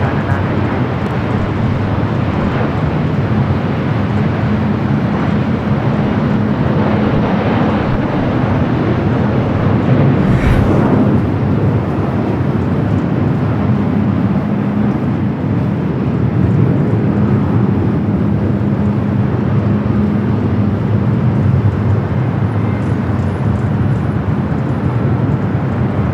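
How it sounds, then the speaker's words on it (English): A China Airlines jet takes off from runway 24 Left at Los Angeles International Airport, its engines sending out a loud, continuous, broad roar that holds steady throughout. "Cleared for takeoff, heading back to Beijing."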